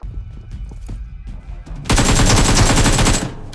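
Rapid automatic fire from a Glacier AKM rifle in a video game rattles in a dense, loud burst of about a second and a half, following a few scattered single shots and clicks.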